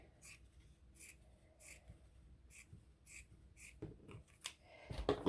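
Craft material being cut down to size with scissors, a series of crisp rhythmic snips about twice a second, close and quiet, followed by rustling handling at the end.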